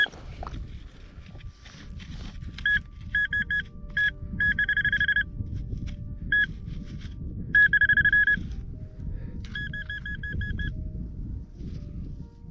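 Repeated electronic beeps from a metal detector searching farm fields, short tones in bursts of two or three and longer held tones, over low rustling and scraping ground noise.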